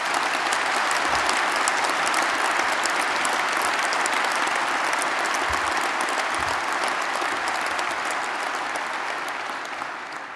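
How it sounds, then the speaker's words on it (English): An audience applauds the musicians at a postgraduate awards ceremony, a steady, dense wash of clapping that holds for about ten seconds before easing slightly at the end. "Richard Dickens and the musicians, I think, deserve applause for the wonderful music"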